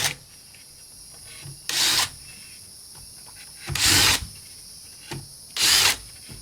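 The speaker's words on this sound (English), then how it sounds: "Let's drill some holes." Three loud bursts of drilling holes into a wooden deck post, each lasting about a second, separated by quieter pauses with faint background noise.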